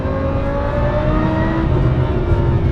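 A supercharged Lamborghini Huracan accelerates hard, its engine heard from inside as a steady, loud, rising drone with supercharger whine, without talk.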